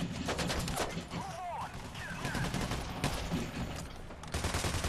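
Dense bursts of gunfire from the heist video game Payday: The Heist, rapid automatic volleys and single shots crackling loudly almost without pause across the whole stretch, with brief whooshing game effects between them.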